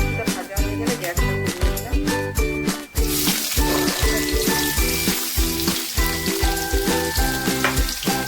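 Nigella seeds and green chili drop into hot oil, giving a steady bright sizzle that starts abruptly partway through and carries over faint background music.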